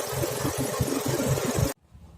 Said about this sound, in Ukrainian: їдемо на холостих оборотах і просто охлаждаємо